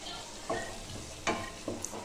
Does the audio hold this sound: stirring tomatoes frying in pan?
yes